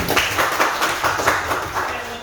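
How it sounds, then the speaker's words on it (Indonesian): A classroom gives a round of applause, a steady patter of many hands clapping in a roughly even rhythm, moderately loud and close, with a voice speaking over part of it. "Kasih aplaus dulu."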